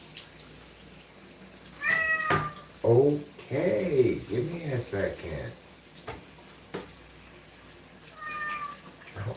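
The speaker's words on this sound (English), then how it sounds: "Chill out, angry meows." A house cat meowing insistently and angrily, several loud drawn-out meows close by, mixed with a person talking and running water in the background.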